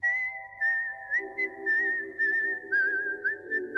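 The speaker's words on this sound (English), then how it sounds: "you may even hear this whistle tune." A lone whistled tune from American Horror Story, the same melody whistled in the first season, carries a slow, wavering melody in clear, close, moderately soft phrases with brief pauses between notes.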